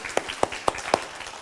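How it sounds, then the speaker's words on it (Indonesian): A church congregation at an Indonesian Christmas Eve candlelight service in 2021 claps along: four sharp claps in an even, quick rhythm over a quiet background. "Tepuk tangan untuk mereka"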